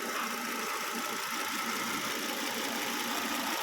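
A Volvo S60 engine idles smoothly after a timing belt repair, a steady even hum running throughout with no talk.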